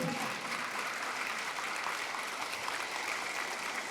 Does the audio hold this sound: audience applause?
yes